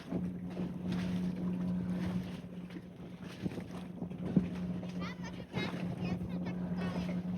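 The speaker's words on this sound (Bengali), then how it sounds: "এই যে একটা স্পিড বোট যাইতেছে" A speedboat passes far off across open water during a fishing outing in Sweden, a steady low drone running throughout beneath wind buffeting the microphone, with voices talking over it.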